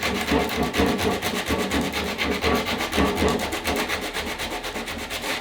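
Sandpaper scrubs around a fin box on a surfboard in fast, steady back-and-forth strokes, a loud close rasping that continues without a break.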